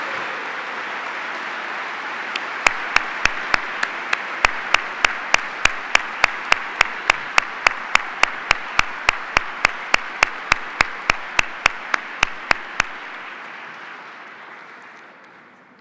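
Awards-night audience applauding in a sustained, dense wash of clapping that swells and holds for over ten seconds, with a steady run of sharp, evenly spaced clicks cutting through the applause before it fades out.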